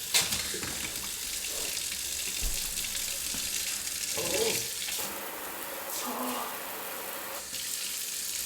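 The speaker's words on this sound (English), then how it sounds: "It doesn't drain very quickly." Steady rush of water running into and draining from a household sink, continuous and fairly loud throughout, with faint shifts in tone and no one speaking.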